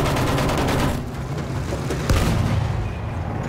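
Dense gunfire and booming blasts rumble through a Battlefield 1 Conquest battle in the Sinai Desert, a continuous loud barrage with a sharper detonation standing out partway through.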